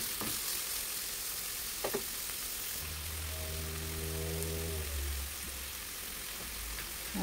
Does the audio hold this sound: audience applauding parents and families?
no